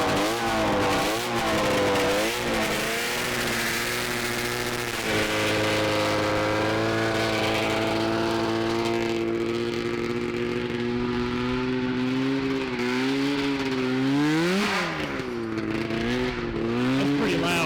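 A 125HP 'Mach 1' go kart with a 670cc two-stroke engine revs hard and close, its pitch sweeping up and down in repeated loud bursts before holding a sustained high whine.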